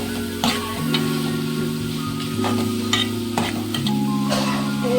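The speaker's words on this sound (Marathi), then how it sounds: "मसाले टाकूया आणि मसाले टाकून आपण जरा परतून घेऊया." Potatoes being sautéed with spices and red chilli powder in a pan for a prawn curry, with steady stirring scrapes and a soft sizzle under a persistent background hum, no talking.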